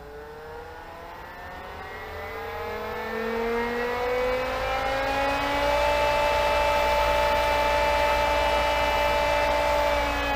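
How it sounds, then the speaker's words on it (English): Single-speed pool pump motor runs at full speed, a loud steady whine that rises in pitch as it spins up over the first few seconds and then holds a constant droning hum. "if you had a single speed pump, this is what it would sound like."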